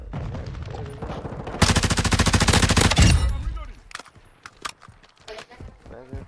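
Automatic fire from a Chimera rifle in the Modern Warfare video game, with a loud, steady burst of rapid shots lasting over a second, then scattered quieter game sounds as someone talks over it.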